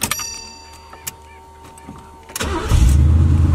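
A box Chevy car engine cranks with a few brief clicks and whirs, then catches and roars to life, settling into a loud, rumbling idle close to the microphone.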